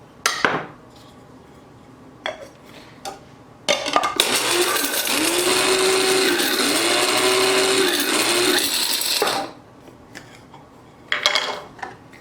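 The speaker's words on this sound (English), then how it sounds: "I'm going to add in 6 grams of cloves. Again, put it in the grinder." Electric spice grinder whirring for about five seconds as it grinds cloves for a spice tea blend, loud and close, with clinks and handling knocks before and after.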